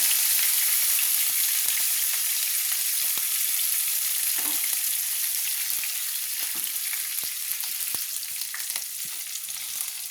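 Bottle gourd and prawn curry with chopped green chillies sizzles steadily in a pan while a spoon stirs it, each scrape sounding as a soft tap over the constant frying hiss, with no voices.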